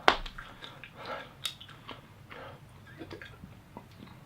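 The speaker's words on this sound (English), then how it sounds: "Right, I'm gonna get rid of this chewing now." Chewing close to the microphone, with a sharp crunchy bite at the start and then irregular moist clicks and mouth sounds over a few seconds.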